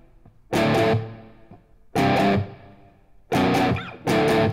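Palm-muted power chords on a heavily distorted electric guitar play a riff, with loud chugging bursts in short repeated groups separated by brief muted gaps.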